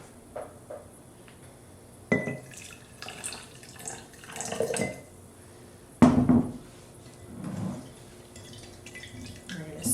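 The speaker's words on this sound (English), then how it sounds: "we're going to add about 1/2 cup of hot water" Hot water poured into a jar of sugar, with intermittent splashy pours and clinks of the jar in several bursts, fairly close and moderately quiet, with faint talk in the background.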